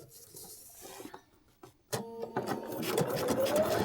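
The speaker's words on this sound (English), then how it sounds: "And now we take it over and sew." A sewing machine stitching fabric pieces for foundation paper piecing starts after a brief pause, then runs in a fast, steady mechanical whir, close and clear with a few handling clicks before it begins.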